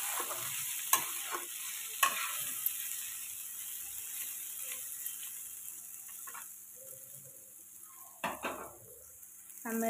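Potato slices sizzle quietly in a frying pan while a utensil scrapes and stirs them, giving a few sharp clinks and scrapes over a soft, constant hiss.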